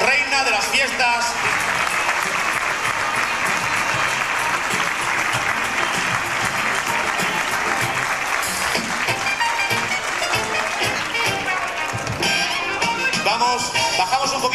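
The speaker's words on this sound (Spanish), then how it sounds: "Ya recibimos también en este salón, con un aplauso fortísimo, a Adela Monteagudo, reina de las fiestas." Hall audience at a 1995 patronal festival in San Javier welcoming the festival queen, loud continuous applause blended with music playing throughout, full and steady for the whole stretch.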